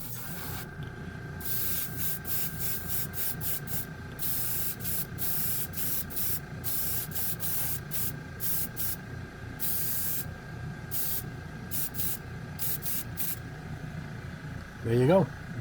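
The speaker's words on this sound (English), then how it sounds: "Check out the coverage over black." An airbrush sprays acrylic paint in repeated short bursts of hiss with brief pauses, close and fairly loud, while a compressor hums steadily underneath and a person talks.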